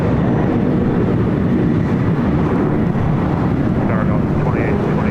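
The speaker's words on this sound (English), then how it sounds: "787-10 Dreamliner will be our next heavy takeoff on the south side" Boeing 787-10 Dreamliner on a heavy takeoff at LAX: a loud, continuous broadband jet roar that holds steady throughout, heard close and alone.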